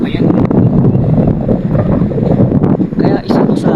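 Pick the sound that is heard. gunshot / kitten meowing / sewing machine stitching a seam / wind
wind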